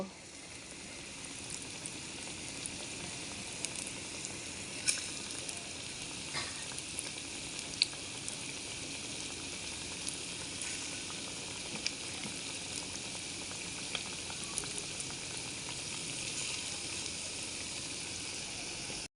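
Potato and egg fritters frying in hot oil in a wok, a steady dense sizzle with faint crackles running throughout, close and even, no talking.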